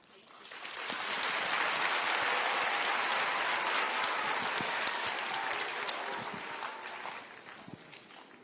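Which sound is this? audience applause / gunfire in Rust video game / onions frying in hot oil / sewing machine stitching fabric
audience applause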